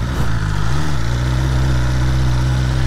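A BMW S 1000R motorcycle engine stumbles near stalling, a brief dip and surge in its low rumble before it settles into a loud, steady idle close by.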